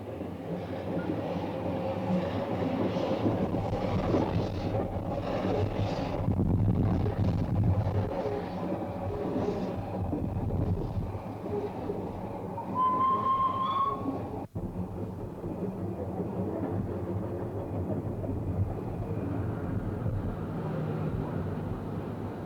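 Narrow-gauge steam locomotives on the Ffestiniog Railway, a tiny upright-boilered De Winton engine and George England's 1863 0-4-0 Prince, rumble steadily and close, with a brief whistle-like tone rising midway through.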